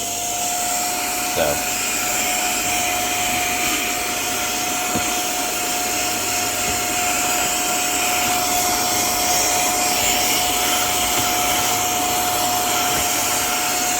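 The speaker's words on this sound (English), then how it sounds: "I'm going to use the brush on this one, sucking in. Got 3 seconds. And then you can hear the different powers." A HŌM mini vacuum cleaner with a brush attachment runs as a continuous, high-pitched whine close by, holding steady throughout, while a person speaks briefly over it.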